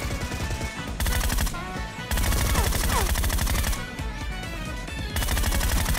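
Rapid bursts of automatic gunfire in the mobile battle royale game Peacekeeper Elite, loud and close, firing in long continuous volleys with brief pauses between them.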